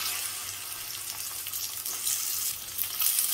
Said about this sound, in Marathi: आता याच्यात आपण 1-2 चमचे तेल घालून घेऊयात. तेल तापलं की त्याच्यात ही चिरलेली जी आपली भेंडी आहे ती घालूयात.